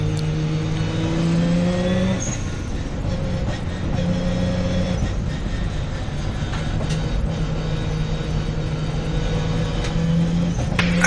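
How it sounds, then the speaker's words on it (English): Classic and historic saloon race cars leave the grid at the start of a race at Brands Hatch, a dense loud roar of many engines revving and accelerating together, continuous throughout. "And so away we go, and we immediately start this race"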